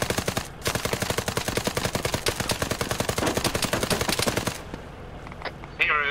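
Rapid automatic gunfire in a military video game, a dense loud burst of fast repeated shots lasting several seconds before stopping, with faint talk afterward.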